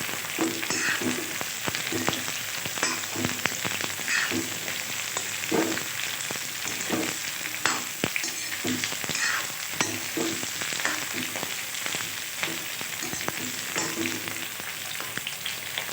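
Stuffed ridge gourd frying in hot oil: a steady crackling sizzle runs throughout, punctuated by regular stirring scrapes and clinks of a utensil against the pan, close and moderately loud with no talking.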